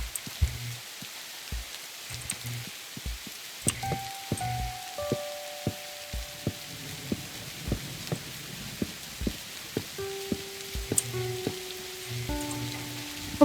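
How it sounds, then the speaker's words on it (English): Steady rainfall in the video game Forever World, a continuous patter of drops on surfaces with soft ticks throughout, accompanied by gentle game music tones; no talking. "Hopefully the rain dies down soon"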